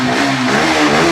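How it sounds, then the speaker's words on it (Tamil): A Yamaha R15 V3 2020 motorcycle engine revs loudly and steadily up close, a continuous buzzing roar with slight rises in pitch and no talking. "இந்த வண்டியை ஸ்டார்ட் பண்ணி காமிக்கிறேன் பாருங்கள்"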